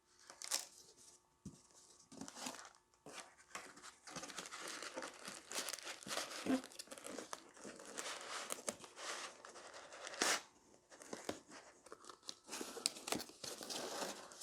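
Packing paper is crumpled and stuffed into a shipping box around a Japanese maple tree, making close, irregular crinkling and rustling bursts that continue for about fourteen seconds without speech.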